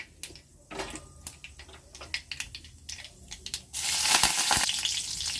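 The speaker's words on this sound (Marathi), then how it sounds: "कांदा आपण व्यवस्थित परतून घेऊया" Chopped onion with mustard seeds, a pinch of asafoetida and curry leaves sizzles in a pan, with scattered spoon clicks and scraping, building to a louder, steady fry toward the end.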